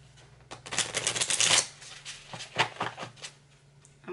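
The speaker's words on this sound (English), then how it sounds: "these are so new. They're hard to shuffle. Let's try that again." A brand-new deck of playing cards being shuffled, with a burst of rapid riffling flutter up close followed by a few shorter, softer card flicks and taps.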